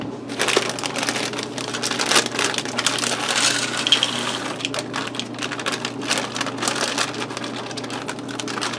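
Frozen corn from a 12-ounce bag sizzles and crackles in a hot skillet over potatoes, a steady, dense frying hiss that runs unbroken and fairly loud from start to finish with no talk.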